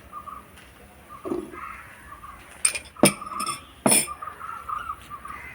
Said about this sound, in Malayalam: ഇത് മിക്സിയിലേക്ക് ഇടുക